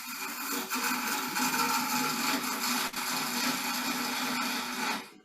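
A skew chisel rides the bevel on spinning wood on a lathe while turning an egg shape, a steady close hissing, whirring cut with faint bumps, continuous for several seconds before stopping.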